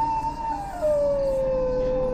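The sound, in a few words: dogs howling loudly at night, horror story sound effect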